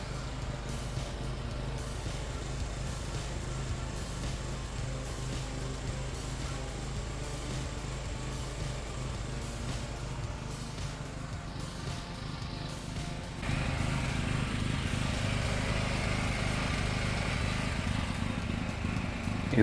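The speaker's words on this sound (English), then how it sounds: "Please hold the valve for 3 seconds and try start the engine." A small engine converted with an LPG carburetor kit runs steadily on gas with the gasoline off, a continuous moderate drone that grows louder and rougher about two-thirds of the way through, with no talk.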